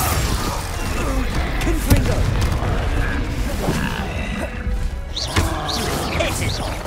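A Confringo fire-spell blast in Hogwarts Legacy during a spell-casting duel, with loud, dense booming impacts and crashing bursts layered over constant battle noise and a shouted voice.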